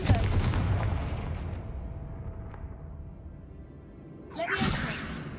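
A Confringo spell is cast in the Hogwarts Legacy video game, giving a sharp whooshing burst near the end that follows a rumbling, crackling stretch and a brief lull.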